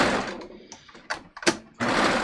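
A serger badly needing a tune-up runs in short, close bursts of whirring stitching broken by pauses, then ends on a longer steady run.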